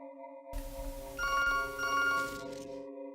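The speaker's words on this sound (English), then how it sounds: "My phone is ringing in Nightmare World." In the video game To The Moon, a phone rings with a clean electronic ringtone, two quick bursts of bright repeating tones over a soft, steady background hum.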